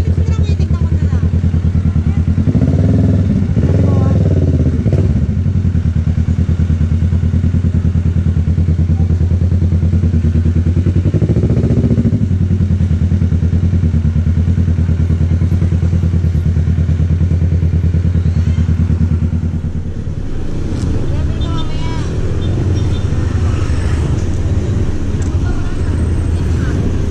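A motorcycle engine runs close by with a steady low rumble and clatter, shifting and surging near the end, with talk faintly mixed underneath.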